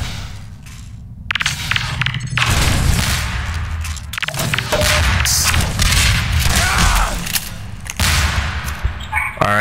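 Shotgun blasts and other gunfire in a Half-Life 2 Deathmatch multiplayer match, loud repeated booms and thumps with whooshes, mixed under a player's talk.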